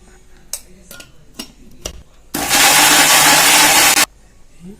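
A kitchen mixer grinder purees mango chutney with salt, curry leaves and chilli powder. A few sharp clicks and knocks come first, then the motor roars loudly and steadily for about two seconds before cutting off abruptly.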